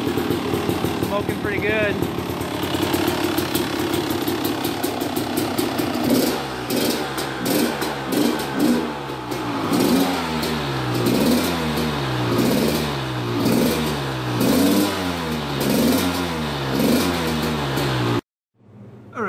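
A Honda CR250 two-stroke dirt bike engine runs close by while warming up, idling first and then revving in repeated rising and falling bursts, with someone talking over it before it cuts out near the end.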